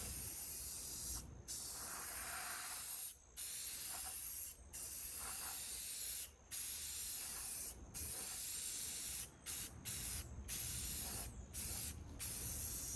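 A spray can lays paint and primer onto a 1966 International Harvester truck bumper in bursts of sharp, close hissing, each one broken by brief silences and with a few quick short taps near the end.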